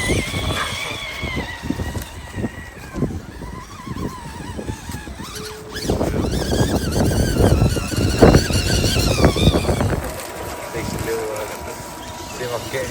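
A radio-controlled Unimog crawler, 3D printed or custom built, grinds up a hill with whining motor, tyre scrabbling and squeals rising midway, close by, while people talk over it.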